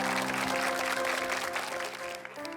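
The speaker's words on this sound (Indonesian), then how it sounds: "Boleh tepuk tangan untuk Master Lambat." Studio audience applause for a guest on an Indonesian talk show, a brief burst of crowd clapping and cheering over background music, fairly loud and fading slightly at the end.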